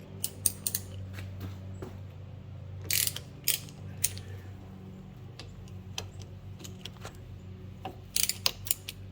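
Ratchet clicking in short bursts while the brake caliper bracket bolts, about 17 mm, are removed on a 2009 Toyota Prius, with brief sharp metallic clicks and ticks scattered over a low steady hum, close and fairly quiet, no talk.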